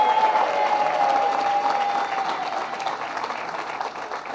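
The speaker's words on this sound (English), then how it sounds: "To our great labor commissioner, Roberta Reardon, let's give her a round of applause." A crowd at a bill-signing event gives a round of applause for labor commissioner Roberta Reardon, steady close clapping that slowly thins out, with a faint tone ringing briefly early on.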